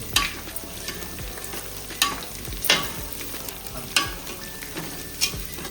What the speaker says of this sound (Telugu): ఇప్పుడైతే ఇగో దాల్చిన చెక్క, లవంగాలు, ఇలాచి, సాజీరా వేసుకొని మంచిగా మిక్స్ చేసుకోవాలి